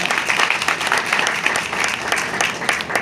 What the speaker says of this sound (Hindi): दीपक सेठ जी और युवा नेता हमारे राजा सेठ जी, इनके लिए भी तालियां हो जाएंगी।